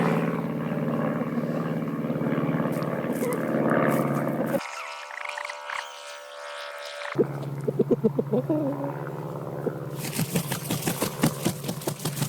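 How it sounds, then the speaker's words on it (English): A low propeller plane drones steadily overhead, its engine hum loud and continuous before fading, with brief voices and clatter around it. "Oh, these planes are always flying over me. So low too."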